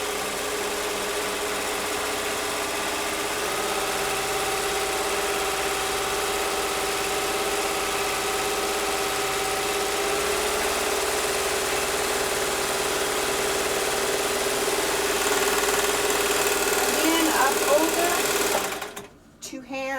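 A Baby Lock Evolution serger runs steadily, sewing a rolled edge on a single layer of fabric, a loud, even, rapid mechanical whir that holds for nearly twenty seconds before stopping abruptly at the end.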